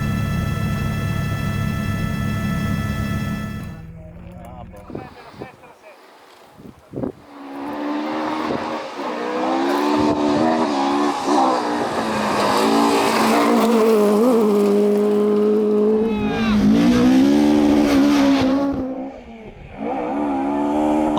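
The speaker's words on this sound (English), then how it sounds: "the rally starts and promises to be a great battle between the two Ford Escort of the drivers from San Marino, Calzolari an" Historic Ford Escort rally cars race along Italian gravel roads, their engines revving hard and rising and falling as they pass close by, with gravel and wind noise after an opening tonal passage.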